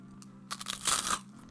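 Teeth biting into crunchy homemade croutons, a short burst of loud dry crunches in the middle of a quiet moment.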